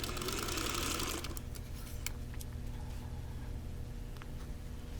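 A sewing machine runs a quick burst of stitching along a quilt block seam while piecing a Wheel of Mystery block, then stops and leaves a quiet hum with a few faint clicks.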